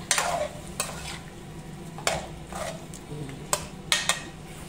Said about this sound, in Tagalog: At haluin natin saglit.